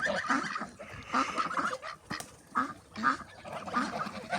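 Farmyard ducks and a drake quack repeatedly in a noisy flock nearby, overlapping calls rising and falling in loud bursts.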